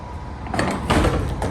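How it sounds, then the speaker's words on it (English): A semi-truck trailer door swings open with a metallic rattle and scrape, a few clunks in quick succession, close and fairly loud. "Give you plenty of room to open the door, so it's nice and open."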